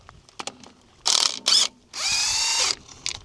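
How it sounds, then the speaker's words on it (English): An impact wrench spins a chrome socket, with two short buzzing bursts followed by a longer sustained whir, close and loud, amid small clicks and handling knocks. "Rattle gun on a chrome socket."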